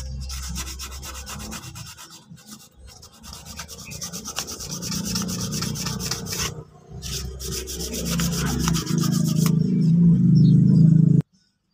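Continuous rough rubbing and rasping of sandpaper on a Honda Click 125 engine part, steady back-and-forth strokes building slightly louder before stopping abruptly; no speech.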